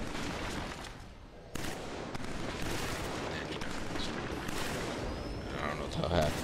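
Gunfire and battle noise from the shooter Killzone 3 fill a dense, continuous wash of shots and booms, loud throughout, with a player's voice talking over it.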